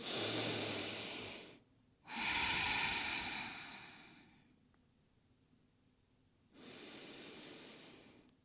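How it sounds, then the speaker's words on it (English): Slow, deep breaths during a yoga forward fold: a long airy exhale, a pause, then another full inhale and exhale, close and breathy, with no talking. "And then exhale, fold. 2 breaths here."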